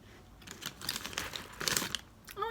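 Crinkly, crunchy snacking on a light, flaky Taiwanese puff cracker, with irregular close crackles and rustling bursts and no talk.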